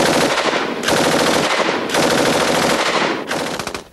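Stoner 63 belt-fed machine gun firing in loud, close sustained bursts, three long strings of rapid shots separated by short breaks, ending in a few trailing rounds.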